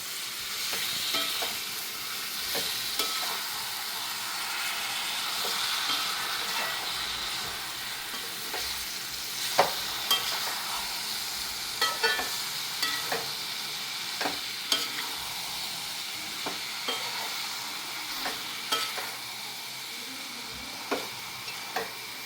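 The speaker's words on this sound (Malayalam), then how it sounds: "ഒരു അഞ്ച് മിനിറ്റോളം നമുക്കിങ്ങനെ ഇളക്കി കൊടുക്കാം" A spoon stirs a lime pickle mixture of vaduka puliyan lime in a pan, giving irregular scraping clicks over a steady, soft sizzle that runs without a break.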